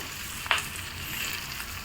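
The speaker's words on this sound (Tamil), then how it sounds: "இப்போ பாருங்கள், சுண்டைக்காய் நல்லா வதங்கி வந்துடுச்சு" Turkey berries fry in a pan, giving a steady, soft sizzle with one brief clink or stir near the start.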